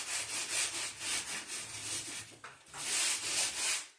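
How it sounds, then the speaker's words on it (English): Two scratchy sanding sponges scrape old polystyrene ceiling tiles in quick back-and-forth strokes, a close, rhythmic rasping rub that briefly pauses before resuming. "I actually found it's better to be using sanding sponges, and these are quite scratchy ones, and I use two"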